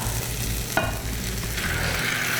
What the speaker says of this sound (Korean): 자, 그 다음에 김치를 같이 넣고 한번 볶을 겁니다